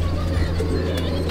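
Andhra pigeons coo inside a loft in West Bengal, low rolling calls repeating close by over a steady background hum, with faint voices nearby.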